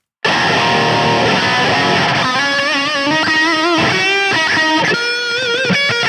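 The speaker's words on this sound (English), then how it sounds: "The second option is the TSE audio overdrive, which sounds like this." Electric guitar through a TSE audio overdrive in BIAS Amp enters abruptly with crunchy chords, then moves into wavering, vibrato-laden lead notes, loud and saturated.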